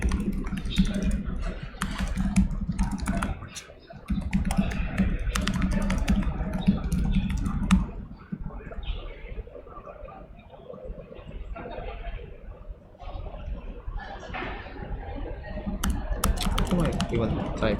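Keyboard typing at a computer during a live ICPC 2020 World Finals mirror stream, a steady run of clicky keystrokes mixed with background room noise and occasional talk.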